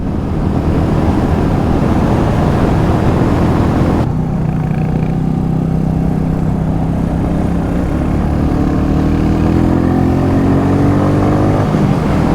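Royal Enfield motorcycle engine meeting the Euro 5 norm, a steady loud rumble that drops in level partway through, then a rising pitch as the bike accelerates, with no talk.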